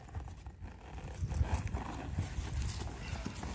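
A horse for sale at a cattle and goat fair in Vertentes, Pernambuco, clip-clops along with uneven hoof knocks close by over a busy crowd background, with a dog-like whimper and faint voices mixed in.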